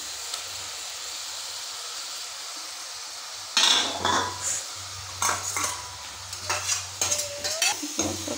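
Fried potatoes tipped into a pan of sautéed bottle gourd greens, with a sudden clatter of utensils against metal followed by brief stirring scrapes and clinks over a faint background hiss.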